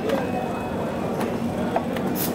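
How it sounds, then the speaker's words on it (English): Automatic screw machines running on a factory floor at Intex's Noida facility: a steady, dense mechanical clatter and hum that stays loud and even throughout, with faint clicks and brief higher bursts on top. "Auto this is our machine. automatic screw machines."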